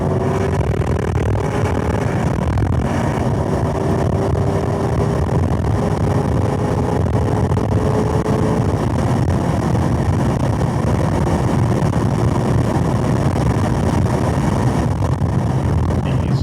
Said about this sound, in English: So the car, when it's on track with the windows down, basically wind buffeting starts at around 100 miles an hour